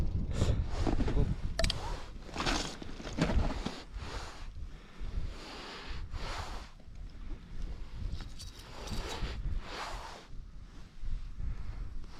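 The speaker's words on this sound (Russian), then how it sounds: "Ветер вообще обалдел." Strong gusty wind roars over open ice during ice fishing, surging and easing in loud buffeting waves against the microphone, with no talking.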